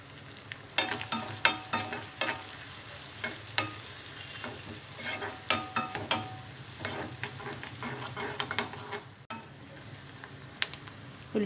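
Onion pieces with turmeric fry in a pan, a steady soft sizzle broken by frequent sharp scrapes and taps of a spoon stirring, close and moderately quiet.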